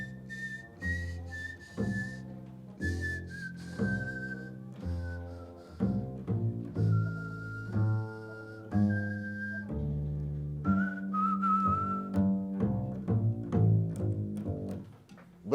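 Someone whistles a tune over a bouncy musical backing, the bright whistled notes sliding and sustained above the accompaniment.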